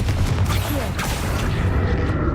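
A Confringo blast spell from the video game Hogwarts Legacy, a loud continuous roaring burst with booming low rumble filling the whole moment.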